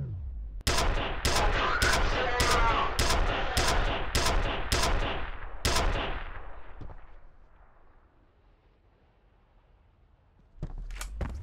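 Gunfire in F.E.A.R. comes as about ten loud evenly spaced shots with ringing tails. Quiet decay follows, then a couple more sharp blasts at the end.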